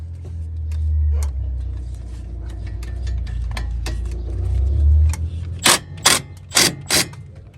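Ratchet loosening a 14 mm brake caliper bolt on a 2012 Kia Forte, a series of four or five sharp, close ratcheting bursts near the end, after a stretch of low mechanical rumble.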